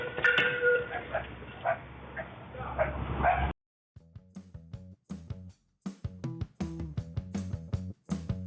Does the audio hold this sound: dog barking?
yes